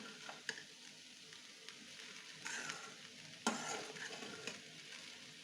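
Poha is stirred gently in a hot oiled pan, giving a faint, steady sizzle broken by soft scraping strokes and a few sharper clinks of the spoon against the pan.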